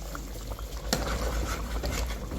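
Thick tomato ketchup pours into a pot of Jamaican-style oxtail, giving a steady close liquid gurgle with one brief knock partway through.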